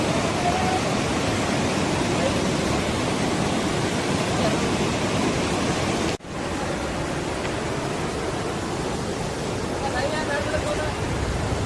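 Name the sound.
Godachinamalki waterfall roaring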